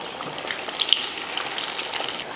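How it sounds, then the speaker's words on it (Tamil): Maida-battered masala pieces deep-frying in hot oil, a steady hissing sizzle with scattered bright pops and crackles, close and continuous with no talking. "நல்லா எண்ணெயில் பொரித்து எடுத்துருவோம்."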